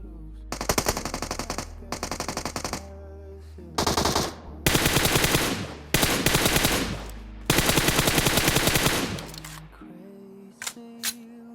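Loud automatic gunfire from the mobile game PUBG Mobile comes in several long rapid bursts separated by brief pauses, then a couple of lone shots near the end. The bursts are close and dominant, with no talking over them.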